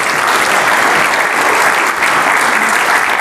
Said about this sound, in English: Please give yourselves a big round of applause too.